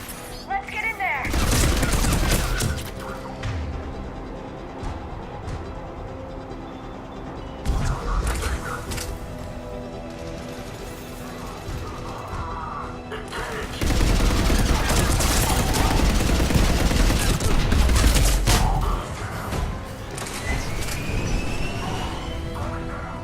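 A Mass Effect 3 firefight at a checkpoint on Sur'kesh, with bursts of rapid gunfire and booms against Krogan, loud in two main waves separated by quieter stretches, with battlefield voices calling out amid the shooting.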